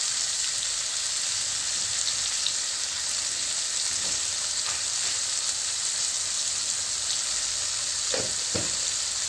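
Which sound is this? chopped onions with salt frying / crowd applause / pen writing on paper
chopped onions with salt frying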